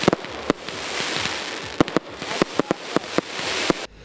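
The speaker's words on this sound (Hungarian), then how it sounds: "Az első Color Fesztivál második napját a hagyományos augusztus 20-ai tűzijáték zárta." Traditional August 20 fireworks closing a color festival's second day: a dense, continuous crackle with repeated sharp bangs scattered irregularly throughout, loud and without voices.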